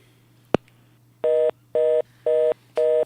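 Telephone line tones on a radio call-in show: a short click, then four evenly spaced beeps over a low steady hum, with no talk.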